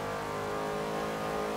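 A car engine at full throttle in Forza Horizon 3, held steady and loud with the handbrake on, a continuous strained drone with no gaps and no talking.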